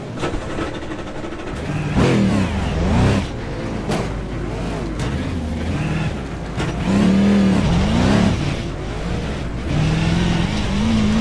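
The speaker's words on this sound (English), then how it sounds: "So I suck at burnouts." A V8 Supercar race car doing a burnout at Mosport, its engine loud and close, revving up and down in repeated surging sweeps that run continuously throughout.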